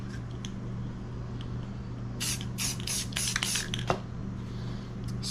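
Spring green spray paint hisses from an aerosol can onto paper in a series of short bursts, fairly close and moderately quiet over a low background hum, with no talk.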